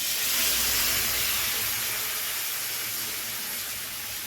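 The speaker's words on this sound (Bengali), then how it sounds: "দিয়ে দেবো এখানে সামান্য পরিমাণ জল, যাতে মশলাটা পুড়ে না যায়" A loud steam hiss bursts up as water hits spice paste frying in a pan for an eggplant dish, then eases slightly while staying steady for a few seconds, with no talking.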